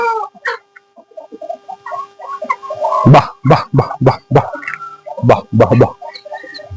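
Peruvidai chickens on a farm give a run of sharp, loud clucks and squawks in quick bursts, with softer chirping and calls between, close to the listener and with no talk.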